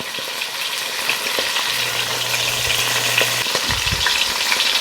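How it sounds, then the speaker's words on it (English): Steady, bright sizzling and crackling of turkey frying skin side down in hot fat in a pot, continuous throughout with a faint low hum in the middle. "Got a nice sizzle going down there."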